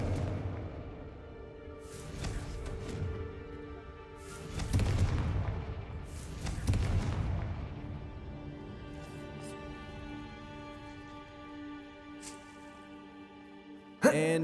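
Fire spell blasts from a Slytherin wizard in Hogwarts Legacy, cast inside an abandoned mine resembling a tomb: several deep booming bursts with whooshing tails, spaced a couple of seconds apart over game music, ending in a sharp final hit.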